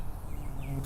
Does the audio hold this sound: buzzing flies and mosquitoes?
yes